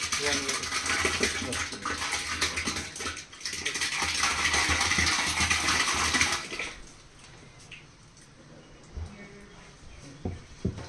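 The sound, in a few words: pouring six litres of curd for panchagavya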